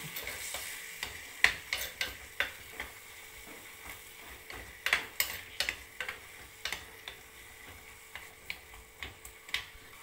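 Chopped green chilies fry in a pan while a spatula stirs them, making irregular close clicks and scrapes over a soft, low sizzle.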